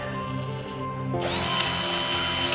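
A power drill whirs steadily up close, its motor pitch climbing as it speeds up partway through and then holding a high, even whine.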